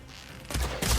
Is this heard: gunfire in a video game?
yes